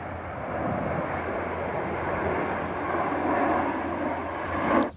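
Snowbirds jets passing over the Abbotsford Airshow as a steady, broad roar that holds loud for the whole stretch and swells briefly near the end, with no talking.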